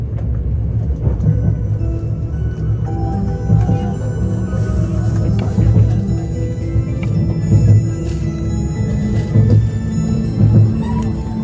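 Japanese passenger train departing Fukui station, bound for Ishikawa Prefecture: a steady low rumble of running gear and motors fills the whole stretch at even, moderate loudness, with no voices.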